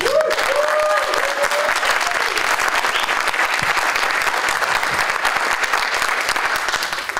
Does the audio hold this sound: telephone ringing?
no